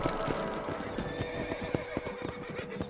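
Horses in the Red Dead Redemption video game whinny over a steady, close clip-clop of hooves, with a continuous game soundscape beneath.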